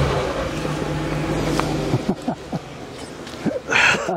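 An old car's engine runs steadily with a rough hum, then a few short mechanical clunks and rattles come from its unusual starter mechanism, ending in a louder burst close to the microphone.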